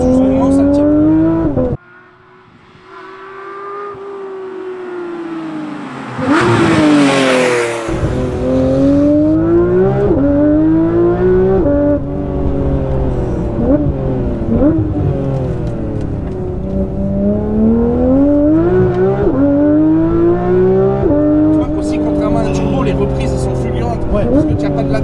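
A Porsche 911 SC's non-turbo engine revs loud and close from inside the car while driving, rising and falling through gear changes with sustained growl, as people talk over it.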